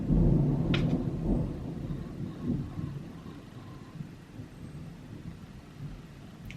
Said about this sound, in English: I just heard some thunder.